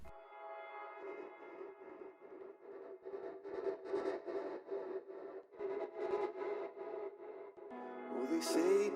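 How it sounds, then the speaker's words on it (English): Sections cut from Coldplay's Everglow, reversed with reverb so they swell and fade in, heard as a sustained, washy musical passage with rising smeared tails and a brighter burst near the end. "cut out parts and then add a reverb. And when you reverse them,"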